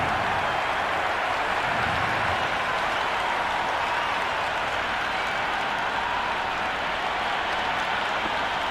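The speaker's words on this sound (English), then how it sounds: "The crowd are making a heck of a lot of noise even before the first ball's been bowled" A large cricket stadium crowd at an India vs South Africa T20 match roars continuously before the first ball, a dense wash of cheering and clapping that stays loud throughout.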